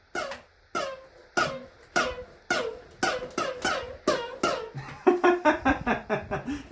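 Quick slides along a ukulele string from top to bottom make laser-blaster zaps, about a dozen in a steady row, coming closer together near the end, with no talking.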